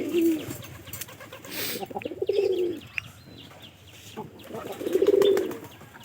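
Pigeons coo nearby in three drawn-out, throaty bursts spaced a couple of seconds apart, with soft shuffling and faint background noise between them.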